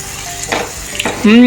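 Chopped green apple is sautéed in a pan for an apple and orange pickle, with a soft sizzle and a couple of brief stirring scrapes before a voice starts speaking at the end.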